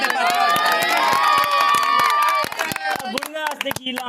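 Crowd at a Punjabi village sarpanch election gathering cheers and claps loudly for about two seconds, then the applause thins into scattered claps and voices.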